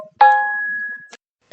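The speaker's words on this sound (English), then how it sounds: "it makes noises that my other phone didn't make, so my apologies for that" A newly upgraded mobile phone chimes once with a single clear, bright ding that rings on and fades over about a second, alone in a quiet room.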